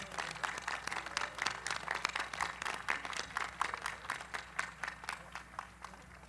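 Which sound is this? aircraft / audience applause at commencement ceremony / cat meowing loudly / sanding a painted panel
audience applause at commencement ceremony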